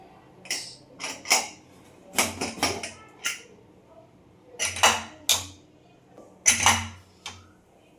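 Metal clinks and knocks sound as a pressure cooker holding tomato vegetable biryani is opened after its whistle. They come as close, irregular bursts of clatter with short quiet gaps between them.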